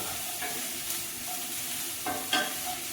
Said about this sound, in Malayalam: ഇത് നമുക്ക് ഈ ഉള്ളിയൊക്കെ ഇതിലേക്ക് ഇട്ട് കൊടുക്കാം